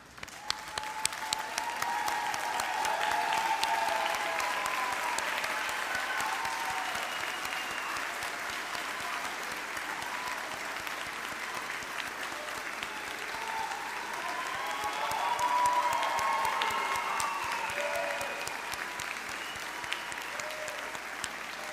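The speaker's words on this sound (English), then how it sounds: "please stand up and let's give them a big round of applause." A standing audience at a Doctor of Physical Therapy white coat ceremony gives a long, sustained round of applause, steady and full for over twenty seconds with a slight swell midway, with no talking over it.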